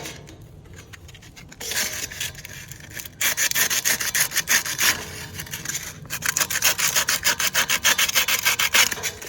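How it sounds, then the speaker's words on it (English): Hand sanding of an indoor air conditioner fan motor part, quiet at first, then loud, rapid back-and-forth rasping strokes in a steady rhythm, close up with no talking. "I want to sand this down real good"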